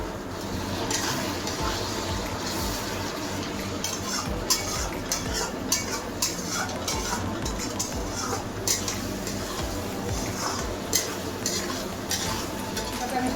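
Turmeric, Kashmiri chilli powder and spices are stir-fried in oil for mutton curry, giving a close, steady frying hiss with repeated spoon scrapes and soft metallic taps against the pan.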